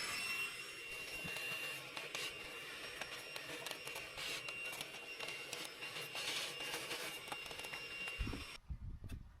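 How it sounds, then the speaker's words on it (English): A vacuum cleaner hoovering around a car's inlet manifold: a loud, continuous roaring whine that holds steady for about eight seconds, then cuts off abruptly, leaving a few faint knocks. "just before I go taking this inlet manifold off, I'm just going to give all this a bit of a hoover up"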